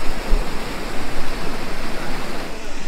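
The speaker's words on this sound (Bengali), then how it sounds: "ওখানে একদম যে জলটা পড়ছে পুরো একদম ওয়াটারফলের মতো" Waterfall at Rocky Island pouring white, foaming water over river rocks, a steady broadband rush that stays close and loud without a break or any voices.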